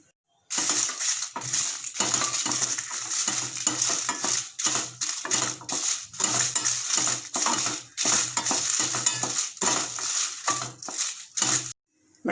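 Twenty dried red chillies roast in sesame oil in a pan over a medium flame. Close, rhythmic bursts of crackling and scraping come as they are stirred, with brief gaps between strokes and no talk.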